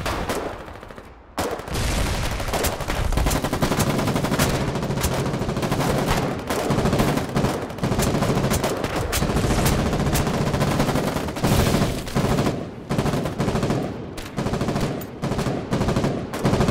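Sustained automatic gunfire in a Battlefield video game, loud and dense with rapid bursts and shots overlapping almost continuously, briefly dropping out near the start.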